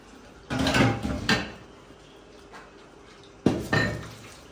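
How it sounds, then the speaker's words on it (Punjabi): Dishes being washed in a village home kitchen: two clattering bursts of pots and utensils knocking together, a pause with faint background, then two more clanks, fairly close with no talking. "ਪਹਿਲੇ ਬਰਤਨ ਧੋ ਲੈਂਦੀ ਆ।"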